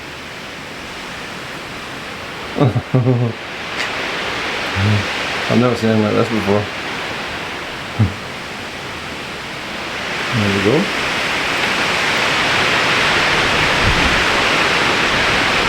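Eas Mor waterfall at Kildonan, swollen after heavy overnight rain, gives a steady broadband rush that grows louder near the end, with someone talking intermittently over it.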